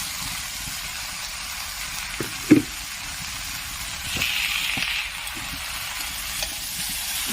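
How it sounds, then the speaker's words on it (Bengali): Eggplant pieces stirred in a hot frying pan, with fried potatoes added for a Bengali labra mixed vegetable curry, giving a soft continuous sizzle broken by a few close knocks and scrapes of the spatula. "বেগুনগুলো দিয়ে কিন্তু এভাবে নেড়ে দেবো। তারপরে দিয়ে দেবো এখানে ভেজে রাখা আলু।"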